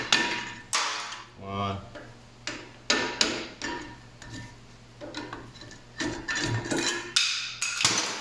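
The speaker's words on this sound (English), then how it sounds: "we got to hammer out our old pads" Sharp metallic hammer strikes knock old brake pads out of a Dodge Ram rear brake caliper holder, several separate clanks spaced irregularly over a faint hum, with a voice counting briefly.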